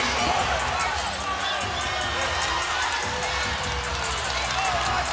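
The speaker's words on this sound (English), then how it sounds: "You couldn't even hear the whistle because the crowd is so loud." A loud basketball arena crowd roars steadily throughout a women's college game between NC State and Notre Dame, a dense, constant wall of cheering and shouting with play sounds buried underneath.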